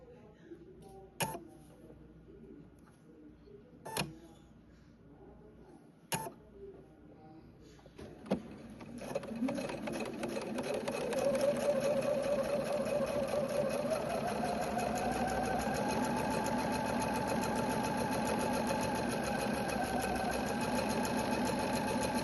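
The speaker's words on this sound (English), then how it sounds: "we are going to run them through the machine" A sewing machine stitches pieces for a ghost-themed sawtooth star quilt block, starting after a few sharp clicks and then running steadily with a continuous mechanical whir that builds and holds, close by and loud.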